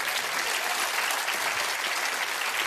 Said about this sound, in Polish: brawo dla mojego kolegi